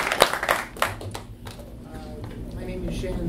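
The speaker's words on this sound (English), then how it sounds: "Round of applause there." A few scattered hand claps from a Drupal camp lightning-talk audience ring out near the start, brief and uneven, then fade as a voice talks over the room.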